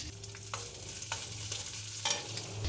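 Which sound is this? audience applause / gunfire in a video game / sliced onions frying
sliced onions frying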